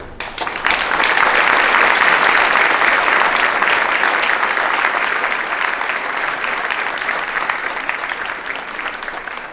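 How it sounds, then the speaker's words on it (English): A concert audience gives a big round of applause for the event's volunteers, a dense, loud burst of clapping that swells quickly, holds steady, then slowly thins toward the end. "Please join me in giving a big round of applause to those who have helped make tonight's concert logistics possible"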